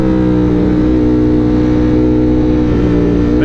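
A motorcycle engine roars loudly and steadily as it accelerates for a wheelie on a summer cruise, a close, continuous revving drone with no voices over it.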